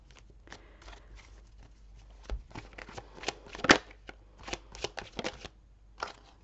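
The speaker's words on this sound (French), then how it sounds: "Donc on va quand même recouvrir cette carte." Tarot cards handled on a table during a reading, with a series of soft card shuffles, slides and taps, one sharper snap in the middle, close and fairly quiet with no talking.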